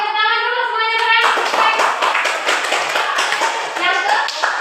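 A class of students claps hands together in a dense, steady burst after a voice at the start, the clapping loud and continuous throughout.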